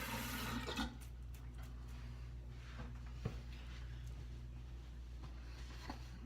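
Tap water running steadily into a sink while a razor is rinsed, a low continuous rush with a brief louder splash near the start and a few faint clicks after.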